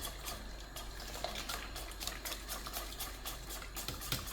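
Beaten eggs are whisked rapidly in a bowl for Cypriot pastitsio, a steady fast wet clatter and swish that runs continuously and fairly loud, with no talking.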